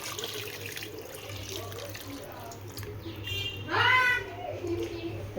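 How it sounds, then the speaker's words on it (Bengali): Hot water boiled with whole spices poured onto rice in a pot, making a steady splashing pour with a brief louder gurgle near the end, close by, with a faint bird chirp in the background. "এটার মাপেই জল দেবো ডবল। দিয়ে দেবো এটা গরম জল।"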